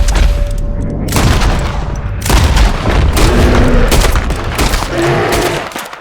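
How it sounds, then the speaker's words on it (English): Loud, close rifle gunshots fired at a bear in Red Dead Redemption 2, several heavy booming blasts in quick succession with echoing tails and game ambience between them. "I got a couple shots off on the bear and it fled"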